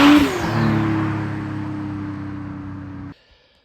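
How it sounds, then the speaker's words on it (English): A car engine revs hard then drops off with a whooshing turbo whine before cutting to near silence. "The car sounds amazing now with this on, I will say. It enhances the turbo sound."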